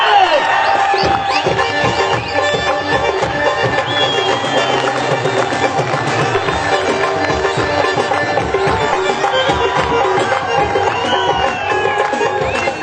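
A crowd cheering and applauding a Saraiki singer at a live concert, a loud sustained mix of clapping, shouts and whoops filling the whole stretch, dense and close.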